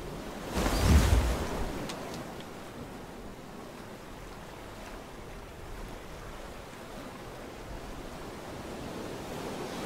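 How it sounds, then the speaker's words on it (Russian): Steady outdoor wind in the video game FAR: Changing Tides, a broad, even rushing hiss with a muffled low thump near the start, continuous and fairly soft throughout. "Тут жаль, просто ветер снаружи есть."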